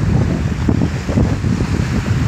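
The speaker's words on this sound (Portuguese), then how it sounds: "Hoje tá um vento forte, o vento tá contra." Strong wind blows at the shore while a child throws a cast net, a steady loud roar and rumble of gusts with no talking.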